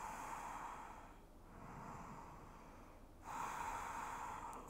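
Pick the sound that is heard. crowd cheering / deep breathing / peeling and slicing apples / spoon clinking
deep breathing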